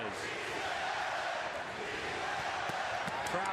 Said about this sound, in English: Crowd chanting "Si se puede." Yes, we can.